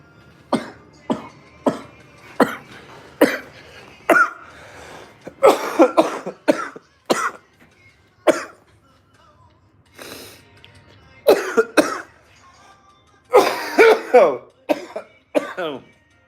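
Someone coughs repeatedly, in sharp isolated coughs and then in clustered fits, close and fairly loud with quiet gaps between.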